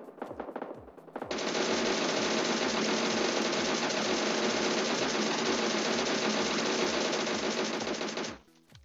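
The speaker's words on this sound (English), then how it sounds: "The next weapon we are going to test is one of the most loved weapons in the Pro League, the DP28." A DP28 drum-fed machine gun in PUBG Mobile fires a loud, continuous automatic burst of roughly seven seconds. A steady rapid thump runs underneath, preceded by faint mechanical clicks, and the burst cuts off sharply with no voices.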